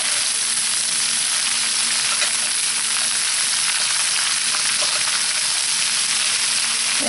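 Brussels sprouts and bacon, with celery, sizzle loudly in a hot pan as they are stirred. A steady, close hiss of frying fat continues throughout without a break.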